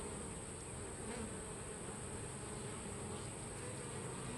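Honey bees buzz steadily at an open hive during an inspection, a dense, continuous drone of many wings held close and even throughout, with no voices.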